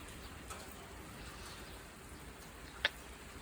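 Steady, even rain hiss fills the whole stretch, moderately loud and constant, with one brief sharp tap near the end; no one speaks.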